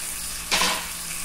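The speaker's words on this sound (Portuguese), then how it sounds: "Vou colocar a cebola, que era pra eu ter colocado junto com o alho fritando." Chopped onion hits a pan of frying garlic with a brief, bright sizzling burst that fades back into a steady low kitchen hiss.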